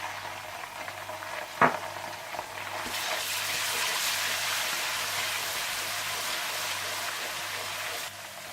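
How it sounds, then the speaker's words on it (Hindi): Ginger and garlic hit a pan of lightly browned onions for a fish curry, setting off a steady, loud sizzle after a brief clatter and continuing evenly until it drops off near the end. "जब प्याज हल्के ब्राउन हो जाएं तो आप इसमें अदरक लहसुन डाल दें और हल्का सा भून दें"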